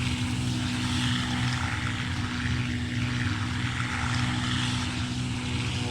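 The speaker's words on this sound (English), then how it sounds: "And there's that engine just ticking over." Flight-simulator Black Square Duke twin-engine propeller airplane cruising at about 15,000 feet, its engines ticking over at low power, a steady droning propeller hum with a low throb, constant and alone throughout.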